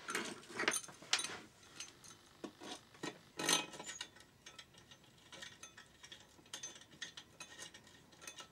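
Metal parts click and ratchet in uneven bursts as a part is screwed in during a Yamaha XT600 engine rebuild, close and fairly quiet, with scraping and tool rattles between the turns.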